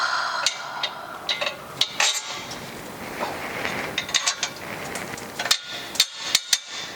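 Exhaust bolts being tightened on a Land Rover Defender, with repeated ratchet clicks and metallic taps in short bursts over a steady background hiss.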